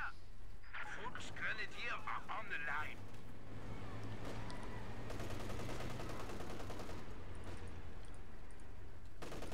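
MG34 machine gun bursts and a Stuka salvo in a multiplayer World War II strategy match, steady rattling fire and explosions throughout under continuous commentary.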